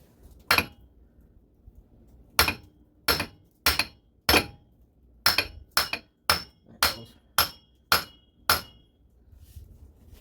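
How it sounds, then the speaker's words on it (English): Hammer blows drive a CV shaft into a Toyota Yaris, about eleven sharp metallic strikes in irregular clusters with short gaps, close and loud with no talking. "Just got to hammer through it."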